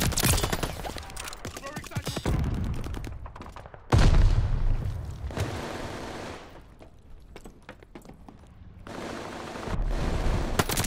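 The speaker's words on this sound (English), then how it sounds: "Incoming stun grenade!" In a Call of Duty Vanguard team deathmatch, a stun grenade goes off with a sudden, loud, close blast partway through, surrounded by rattling gunfire and bursts of battle noise.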